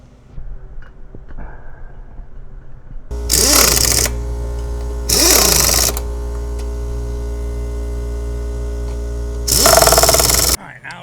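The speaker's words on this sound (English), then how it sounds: "now we got those put on with the impact" Impact wrench tightening wheel lug nuts during a brake job, three loud rattling bursts of about a second each separated by pauses, with a steady mechanical hum underneath.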